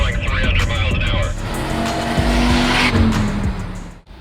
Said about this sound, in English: Get in the car and fire it up.